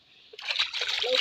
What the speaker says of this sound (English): I'm going to pour water on my body